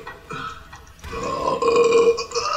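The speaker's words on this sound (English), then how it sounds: "Oh my god, I burped a lot." A single drawn-out, deep burp after Tabasco shots, loud and close, with no talking.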